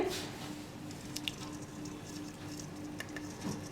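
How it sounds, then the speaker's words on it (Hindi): Jaggery water is poured through a strainer in a home kitchen during dough preparation, giving a faint, soft trickle with scattered drips and light patters, with no talking. "तो पानी को छान लेते हैं हम गुड़ के"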